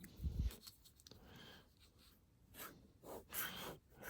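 A pen nib scratches across paper in short, faint strokes, with a soft thump at the start and light, irregular scrapes after it in a quiet room.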